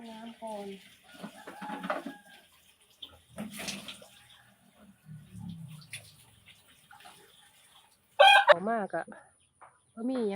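A rooster crows loudly and close near the end, after quieter clucking and a human voice earlier in an outdoor rural setting.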